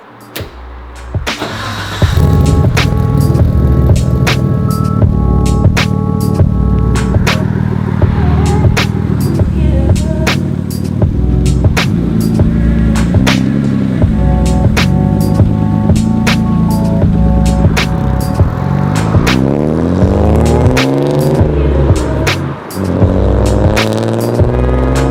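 A freshly imported Nissan R32 Skyline with a manual transmission starts up and idles loudly nearby, engine revs rising and falling steadily as it pulls away, with a sustained mechanical drone throughout.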